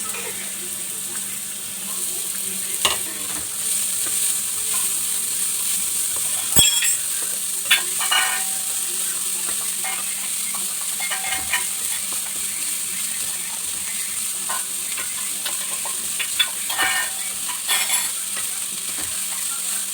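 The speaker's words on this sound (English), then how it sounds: "So first let me add the curry leaves and the onions and the chilies." Curry leaves, chopped onions and green chilies sizzle steadily in a hot pan for aloo bonda filling, with occasional scrapes and clinks of a spoon stirring throughout; close and continuous, no talking.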